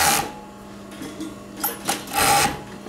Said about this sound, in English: You hear it very quiet, and it's sewing all the thread right now